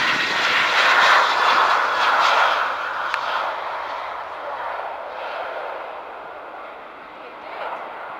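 A jet airliner landing or taking off at Doncaster Robin Hood Airport, a loud broadband engine roar that swells early then slowly fades into the distance, with no talk over it.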